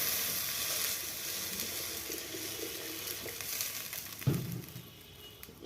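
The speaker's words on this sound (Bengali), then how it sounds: "এবার আমি কড়াই জলটা দিয়ে দেবো।" Water poured into a hot wok sizzles with a soft, steady hiss and crackle that fades gradually, with a brief clatter near the end.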